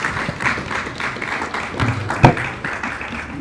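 An audience at a Ghana Muslim entrepreneurs and business summit claps in a modest, scattered round of applause that swells slightly, then thins out.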